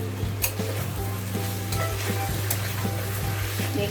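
Fried potatoes with salt, turmeric and spices are stirred in a sizzling pan for dum aloo, a close, continuous frying hiss broken by soft scraping strokes of the spoon.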